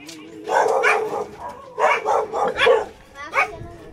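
Dog Jablo barks in short, sharp bursts close by at a house under construction. Yips and a whimpering edge come in uneven clusters.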